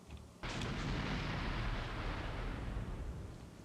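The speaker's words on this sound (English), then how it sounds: "Must have been artillery." Heavy artillery fire in the Cold War video game Armored Brigade II: a sudden loud blast that swells into a long, dense rumbling roar, sustained and distant-sounding without a clear decay.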